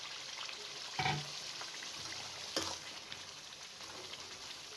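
Boiled chickpeas tipped into frying masala in a pan, a soft steady sizzle with two sharp bursts of splatter and stirring as they hit the hot oil, no talking.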